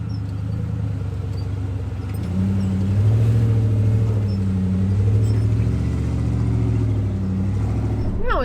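A 4x4 overlanding vehicle on a Moab trail grinds steadily up a challenging climb, its engine a low, continuous rumble that swells slightly as it pulls harder partway through.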